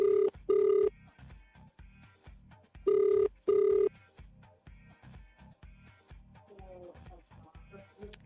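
Telephone ringing on a radio breakfast show's phone line, two pairs of loud electronic ring bursts separated by a pause, with music playing underneath throughout.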